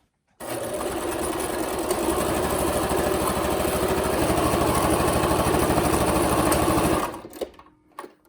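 A sewing machine stitches the sides of a fabric face mask with interfacing, running fast and steady for about six and a half seconds before stopping abruptly, with a few faint handling sounds after.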